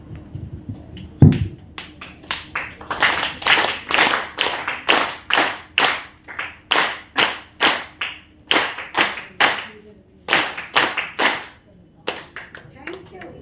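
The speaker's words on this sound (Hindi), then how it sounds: "तो तालियां बजेगी 3 तालियां 5 बार।" A group at an Inner Wheel Club event in Delhi claps in rhythmic bursts, sets of sharp claps repeated in a steady pattern, with short gaps between the sets.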